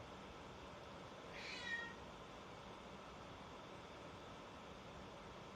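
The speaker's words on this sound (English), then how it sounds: "I got my cat meowing in the background." A single short cat meow, fairly faint, rising out of a steady hiss of background noise, then only the hiss continues.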